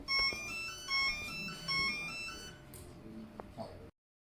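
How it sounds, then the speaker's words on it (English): A drone's electronic speed controllers play their power-on notification, a run of bright electronic beeps with rising tones, fairly close, each tone held briefly before the sequence stops. "Wait until the notification sound finishes."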